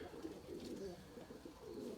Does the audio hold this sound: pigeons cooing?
yes